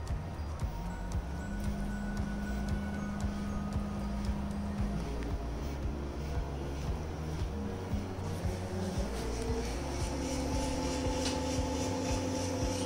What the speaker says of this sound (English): So now we can accelerate and see how the motor will be rotated.